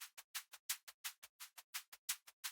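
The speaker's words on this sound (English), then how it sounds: "And this cool shaker, which is pretty dope." A dry, unprocessed electronic shaker sample for melodic drum and bass plays alone, a quick regular pattern of bright, airy hissing hits with short gaps and no reverb or effects.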